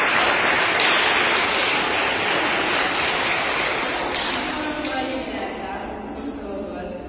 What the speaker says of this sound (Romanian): haideți să o aplaudăm pentru această reușită